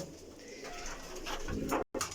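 Pigeons coo in a close, steady murmur in a breeding loft, with a soft rolling rhythm and a brief dropout near the end.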